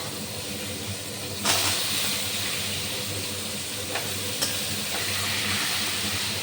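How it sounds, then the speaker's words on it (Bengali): Pointed gourd (potol) frying in hot oil, a steady continuous sizzle and hiss with a couple of brief louder spatters, close and alone without talk. "আগে পটলগুলো ভালো করে ভেজে নিয়ে লাল লাল করে"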